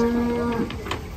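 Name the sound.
cow mooing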